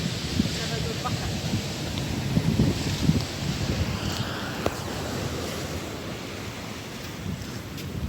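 Sea waves break and wash onto the shore in a continuous roar with gusting wind buffeting the microphone, while voices talk faintly over the surf.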